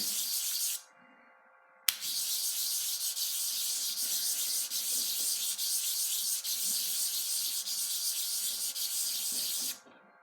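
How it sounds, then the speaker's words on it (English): Steady abrasive sanding of a knife handle spacer at 220 grit, a continuous scratchy hiss that starts, pauses briefly, then runs on evenly for about eight seconds before stopping. "I'm just sanding at 220 for this spacer because there's no reason to sand to 1000 grit when it's going to be inside the knife."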